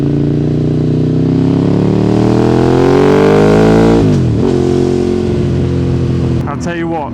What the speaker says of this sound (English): exhaust system just sounds unbelievable. What does it sound like through the little bit of the tunnel?